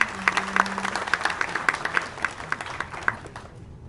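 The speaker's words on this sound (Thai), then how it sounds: "ขอเสียงปรบมือ" Scattered clapping from a small audience at a Japanese-Thai wedding reception, sharp individual claps spread over a few seconds, with a brief low hum early on and fading toward the end.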